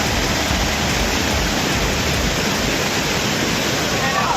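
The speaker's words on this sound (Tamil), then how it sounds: "குற்றால அருவிகளில் தண்ணீர் கட்டுப்பாடின்றி கொட்டியதால்" The flooded Courtallam waterfall gushes with a loud, unbroken roar of falling water that fills the whole scene without a pause.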